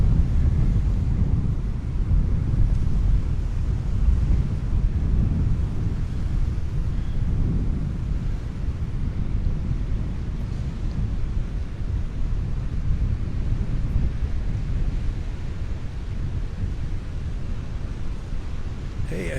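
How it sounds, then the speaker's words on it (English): Wind buffeting the microphone on a beach at Delnor-Wiggins, a steady loud low rumble with gusts and surf-like wash running continuously throughout, with no clear talk. "Windy. Windy, windy."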